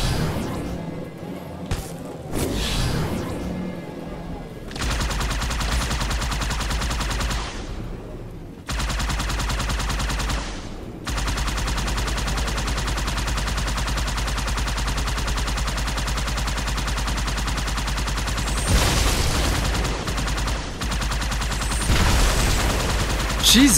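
Gunfire in Halo 2 Anniversary comes in repeated bursts with sharp impacts and crashes, broken by brief lulls, over a steady background rumble of the game.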